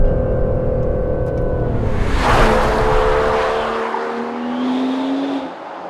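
An Aston Martin DBS Superleggera's exhaust swells with a loud rising rev, then crackles and burbles as the throttle lifts, the engine note falling away to a low idle near the end.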